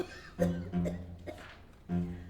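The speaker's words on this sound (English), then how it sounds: "Lift your head up when you cough." A few short, muffled coughs close to the microphone, spaced unevenly across a couple of seconds.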